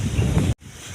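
Strong wind blows outdoors as a typhoon approaches, a loud, steady, gusty rumble buffeting the microphone before cutting out abruptly near the end.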